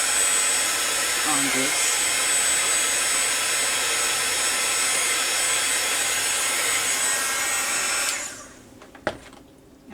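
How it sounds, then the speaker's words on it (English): A heat tool blows loudly and steadily over a watercolor painting, a constant hiss-like whoosh that cuts off near the end, with a brief spoken word under it early on. "Okay, let's do the heat tool"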